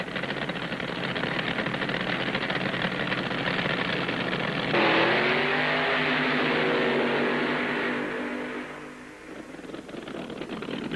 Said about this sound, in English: In round one, it's the AA fuel dragsters with Leroy Goldstein